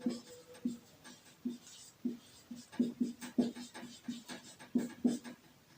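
Chalk or marker strokes from a teacher writing on a classroom board during a science lesson, a series of short, uneven taps and scrapes at close range, coming in irregular bursts with faint room noise between them.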